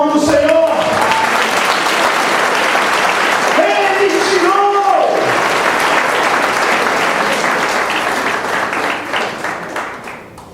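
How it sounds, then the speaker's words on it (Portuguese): A church congregation applauding during a sermon, broad sustained clapping that fills the space, with a preacher's voice speaking over it before the applause fades out at the end. "Você pode aplaudir o nome do Senhor."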